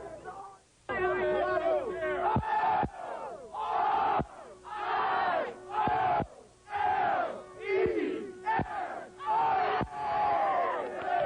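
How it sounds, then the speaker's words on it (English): Jubilant crowds in the streets scream, shout and cheer after the Orioles World Series victory, repeated loud bursts of massed yelling with whistles and sharp bangs in between. "There was screaming and shouting and cheering and rollicking fans attacking cars, T-shirts, pennant flags, and each other in their jubilation"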